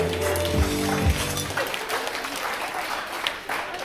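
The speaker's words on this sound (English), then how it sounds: "how about another big round of applause for all our..." Applause at a stage hypnosis show at a campground, starting with a few loud claps over low musical tones, then settling into steady crowd clapping that carries on for several seconds.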